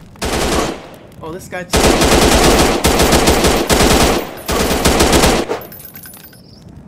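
Rapid automatic gunfire from The Lonesome Shooter video game comes in loud sustained bursts separated by brief gaps, with a player speaking briefly between the volleys.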